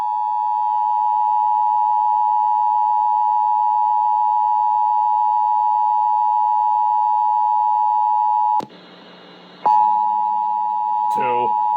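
Steady, loud EAS test alert tone on the radio, a sustained beep-like pitch that breaks into a short burst of data noise before the tone resumes, with a voice briefly heard at the end.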